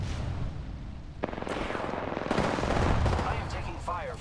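Automatic weapon fire in the Apex Legends video game, with rapid bursts and clusters of shots crackling close and loud over constant game noise during a firefight.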